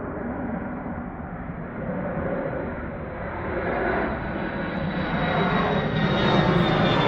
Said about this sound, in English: That was the first plane you saw take off was Alaska Airlines.